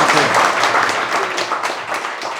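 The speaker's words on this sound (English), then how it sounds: "round of applause for our panelists" Audience applause for a panel of speakers at an industry conference wrap-up, a dense steady wash of clapping from a full room that holds level throughout before a voice begins to come through near the end.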